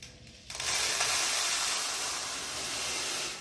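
Lentils go into a hot pan to fry, and a sudden loud hiss bursts in and settles into a steady, close sizzle.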